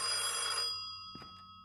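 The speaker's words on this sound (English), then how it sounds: "I hear phone." Phone in a VR game ringing with a bright electronic trill that cuts off after about half a second, followed by a couple of faint clicks in a quiet room.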